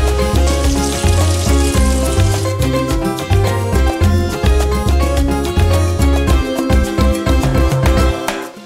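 Masala sauce frying and reducing in a pan after a second dose of spice is added, a loud steady sizzle under rhythmic music-like background tones, continuous throughout.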